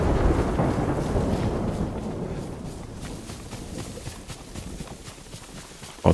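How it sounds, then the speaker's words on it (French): Thunderstorm in the Ghost of Tsushima video game, a rolling low rumble of thunder that slowly fades over steady rain, with a sharp crack of a new thunderclap at the very end. "il faut qu'il y ait de l'orage en plus"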